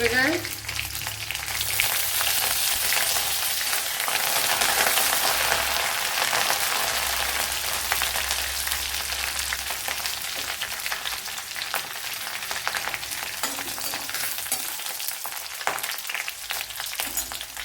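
Curry leaves fry in hot oil with a loud, steady sizzle and crackle, and bright spitting that starts sharply at first and holds throughout.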